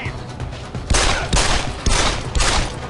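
Gunfire in the video game Deus Ex: several sharp, loud shots land at roughly half-second intervals, each followed by a brief rolling tail over a low background hum.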